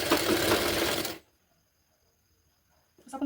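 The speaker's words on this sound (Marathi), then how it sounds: "आणि ही तिन्ही एकत्र पकडून आपण स्टिच करणार." A domestic sewing machine stitches layered blouse fabric pieces in a loud, steady whirring run for about a second, then stops into near silence before a brief restart at the end.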